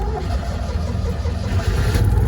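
A Citroen 2CV engine with a single-barrel carburetor running steadily at idle, a close, continuous low rumble and putter with no talking.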